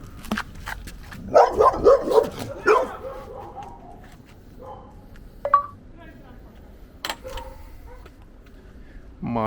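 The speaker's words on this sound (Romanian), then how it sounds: "M-a atacat și un câine." A dog on a residential street in Bucharest barks in a quick burst of several sharp, close barks, then gives a few scattered yips and whimpers amid background noise and speech.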